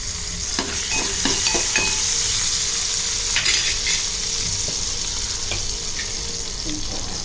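Coriander sizzling in hot oil tempering for drumstick soup, a loud steady hiss with a few sharp crackles and utensil taps near the start.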